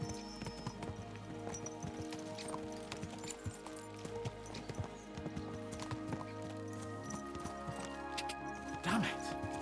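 Horses galloping in the video game Kingdom Come: Deliverance II, a continuous rapid clip-clop of hooves over game music and ambience, with brief whinnies and clatter toward the end.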